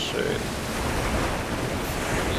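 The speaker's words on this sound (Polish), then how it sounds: "Bardzo fajnie są te fale zrobione" Ocean waves in the video game Call of Cthulhu: Dark Corners of the Earth, heard as a steady broad wash of surf and wind, fairly loud and even, with no distinct breaks.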